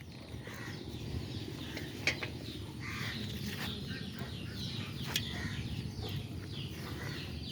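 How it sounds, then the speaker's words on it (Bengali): Chickens cluck faintly in a backyard, with soft, repeated clucks and a couple of sharper calls over a low, steady background and no talking. "এই মুরগি কামড় দিবে।"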